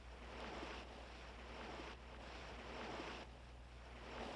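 Ocean waves roll onto a beach as the tide comes in, a soft continuous wash with gentle surges every second or so, faint and distant, no voices.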